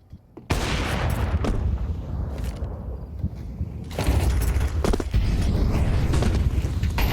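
In the CS2 shooter, grenade blasts and gunfire erupt in a competitive match: a heavy burst starts after a short quiet, then sustained loud explosions and rattling fire, with a second strong blast surge near the middle.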